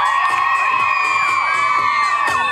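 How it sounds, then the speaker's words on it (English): Kids and adults in a crowd cheer and shout steadily for a female football freestyler, a brief, dense burst of high-pitched voices with a few sharper whoops. "One more cheer"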